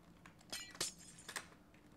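Computer keyboard keys click a few times while a Minecraft game plays, three or four quick, light taps spaced unevenly and fairly close, with no one talking.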